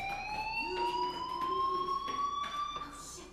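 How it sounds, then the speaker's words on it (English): A school fire alarm from the video game Life is Strange sounds as a steady electronic tone that slowly rises in pitch, with a few faint clicks and thumps underneath. "Hey, do you hear that fire alarm?"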